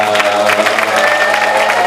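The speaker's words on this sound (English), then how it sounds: "Please give a strong round of applause and a welcome to Holden" Applause and cheering from a debate audience greet a speaker, dense steady clapping over a low musical hum with faint voices mixed in.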